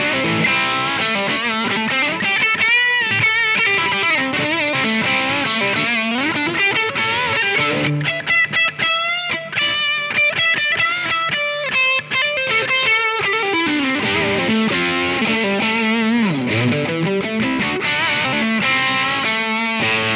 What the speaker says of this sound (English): So it just gives a really, really brilliant aggressive rock sound on a single coil guitar into a dirty amp.